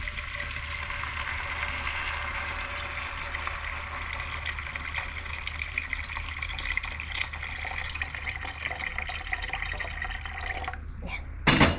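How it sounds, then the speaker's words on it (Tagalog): Tap water is poured into a cooking pot in a home kitchen, a steady close stream running for about eleven seconds before a short clatter at the end. "So, maglagay tayo dito ng tubig."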